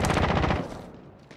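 A rapid, loud burst of automatic gunfire in Call of Duty: Modern Warfare fires at an enemy UAV, a dense half-second volley of shots that then fades.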